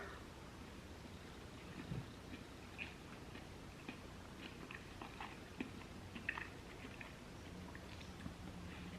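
Close, quiet chewing of a multi-meat pizza bowl with cheese, bacon, ham and onion: soft moist bites and small clicks repeating irregularly, with no talk over them.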